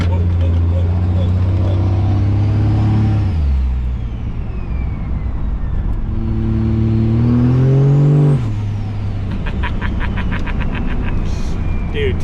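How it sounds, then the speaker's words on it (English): A 1000HP Cummins diesel truck accelerates hard, heard from inside the cab, its engine roaring loudly and continuously with turbo whine rising and falling across two strong pulls. "the turbo noise inside the cab with a single is substantially louder"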